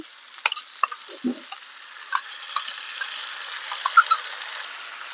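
A masala of chopped tomato and ginger paste is sautéed for a drumstick curry, with a faint, soft sizzle under light scraping and stirring clicks and a few scattered taps.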